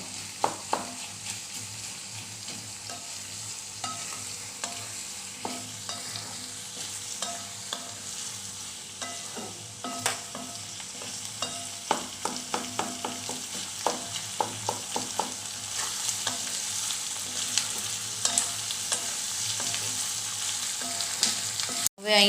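Onions sauté in a pan for a Kathiyawadi onion curry, a steady sizzle under repeated scraping stirs that grow busier and more rhythmic in the second half, ending in a sharp clack; no voices.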